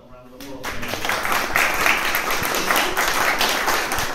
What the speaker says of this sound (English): Another little round of applause.